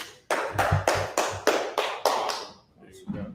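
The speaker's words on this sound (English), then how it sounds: "Let's clap it up." A law class claps for an officer in a quick, even burst of about eight sharp, close hand claps that trail off, with a brief voice at the end.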